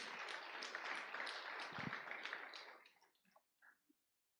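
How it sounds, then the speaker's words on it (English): An audience claps at a hotel managers' conference in Africa, a dense burst of applause that holds for a few seconds, then thins to scattered last claps and stops; faint and distant. "Please, can we clap for the president?"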